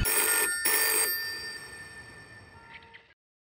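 A telephone rings in two close, loud bursts of bright bell tone, followed by a fainter trailing ring and an abrupt cut to silence.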